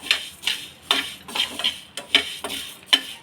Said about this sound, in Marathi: आता ह्याच पॅनमध्ये धनेसुद्धा भाजून घ्यायचे